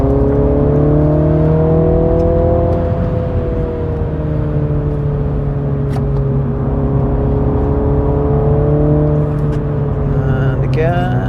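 A MINI GP3 car lapping the Donington track, its engine a loud, steady droning hum heard from inside the car as it holds speed, with a person talking over it.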